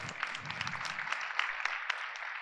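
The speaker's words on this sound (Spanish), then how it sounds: "Un aplauso." An audience at a medical conference claps together, a dense spread of many hands with crisp individual claps, moderately near and continuous throughout.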